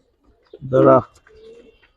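An old-breed Giribaz pigeon gives one full, throaty coo up close, followed by a softer, lower trailing coo, with a faint rustle before it; no speech.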